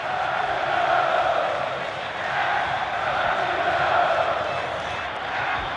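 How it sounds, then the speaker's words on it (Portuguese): Botafogo supporters in a football stadium chant "é campeão" late in the second half, a broad, steady crowd roar that swells and ebbs throughout, rising at about one second and again near four. "E a torcida do Botafogo agora vai soltando um grito de é campeão aos 24 do segundo tempo."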